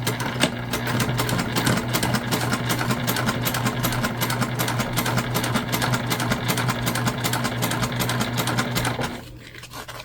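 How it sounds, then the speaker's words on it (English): Sewing machine top stitching a side panel of a fabric candy bag at one eighth of an inch, a steady rapid close mechanical whir running continuously for about nine seconds before stopping abruptly. "we're top stitching throughout at 1/8 of an inch"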